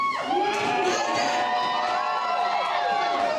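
Audience at a Rangeela x Kalaa dance event cheering loudly, a dense crowd roar with high-pitched shouts and whoops sustained for the whole stretch, close and energetic.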